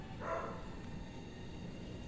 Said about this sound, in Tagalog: Naingay lang yung aso guys kasi naririnig tayo